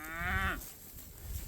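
A fat farm cow gives one loud, close moo lasting about half a second, followed by quiet outdoor ambience with no talking.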